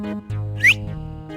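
A person gives one short rising whistle, brief and fairly loud, over sustained background tones in a comedy scene, with no talking during it.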